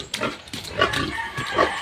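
Week-old piglets grunting close by, three or four short rough grunts in quick succession with no talking.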